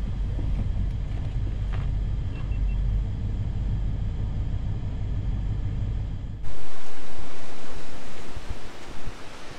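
Steady low rumble of water rushing through Imperial Dam with wind noise, then a sudden louder broadband roar of churning water close by.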